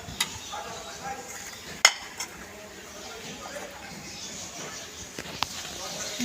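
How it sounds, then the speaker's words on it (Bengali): Rice in a cooking pot at a picnic gets stirred with soft scraping and occasional sharp clinks of the spoon against the pot, under people talking nearby. "এখন আয়ান বাবু নাড়তেছে ভাতটা।"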